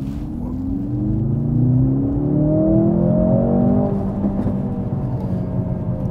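Mercedes-AMG car accelerating hard in Sport Plus mode on a not very smooth road, the engine note climbing steadily through rising revs over a deep rumble, loud and close from inside the cabin, with no talk.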